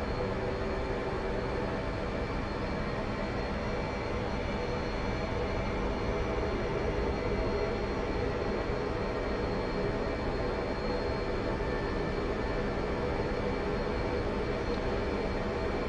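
Jet engine roaring steadily at full throttle in a flight simulator just after an arrested carrier landing on the 2-wire, a continuous broadband rumble that holds loud and unbroken throughout with no voices.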